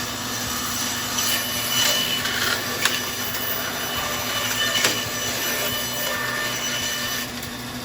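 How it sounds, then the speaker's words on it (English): Protruding sticks are trimmed off a wooden vessel made of sticks, a steady close machine whir with scattered sharp snaps and cuts cutting through it at intervals and no talk. "we're just gonna trim off the bigger pieces that are sticking out"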